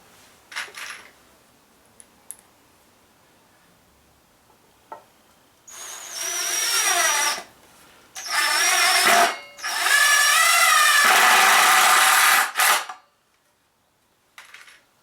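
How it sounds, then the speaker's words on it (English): An impact driver sinks 3-inch screws into wood while a wooden bucking horse is built. Three loud, rattling bursts follow some quiet clicks, with the last and longest burst lasting about three seconds. "it's fun because I get to use my impact driver"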